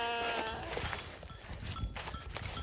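Several sheep bleat intermittently at varying distances over a steady outdoor background, with faint clanking in between.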